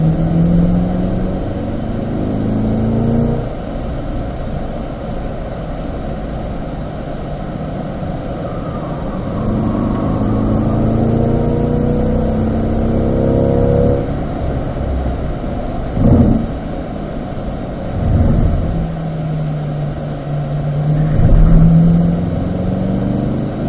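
A car on the Spring Mountain race track revs through its gears from inside the cabin, with engine pitch climbing and dropping repeatedly as it accelerates and shifts, loud and close throughout.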